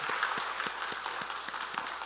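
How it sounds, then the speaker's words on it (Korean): A church congregation applauds during a Sunday worship service to welcome a newly appointed organist, with steady, dense clapping held at an even level throughout. "박수로 환영해 주시기 바랍니다."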